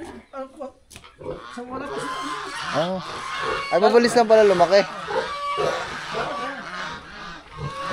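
Pigs grunt on a Filipino farm where geese are also kept, with repeated snorting grunts close by under ongoing conversation between several people.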